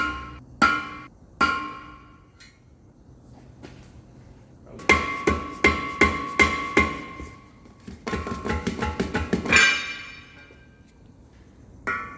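A hammer strikes a transfer punch made from an old drill bit to mark holes in a ring for a CAT D10 dozer final drive hub. The metallic blows ring out sharply, first scattered singly, then in a fast run of close, loud taps.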